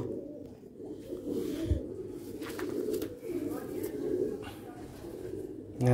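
Soft cooing from a black-faced Sialkoti pigeon chick, low and steady through the clip, with murmuring background voices and some handling noise.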